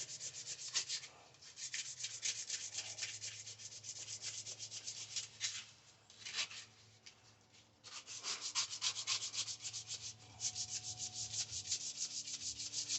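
Sanding the sharp edges of an epoxy resin handle on a camping knife: continuous close back-and-forth rasping strokes in steady rhythm, with a short pause midway, no talk.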